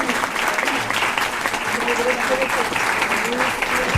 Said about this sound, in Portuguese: uma salva de palmas para a professora Paula